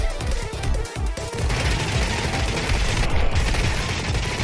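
Rapid gunfire from a weapon in the action shooter Mighty Goose, a loud, dense and continuous rattle of shots with a few sharper cracks at the start, blended into busy game noise.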